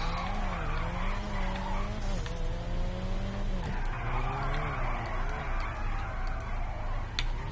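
An all-wheel-drive car drifts in GTA V, its tires squealing in long wavering skids with engine noise underneath, loud and continuous throughout.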